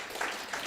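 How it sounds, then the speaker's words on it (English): Audience applause at a women in sport conference, a steady wash of clapping filling the hall for a short stretch, moderately loud with no talk over it. "a round of applause for her"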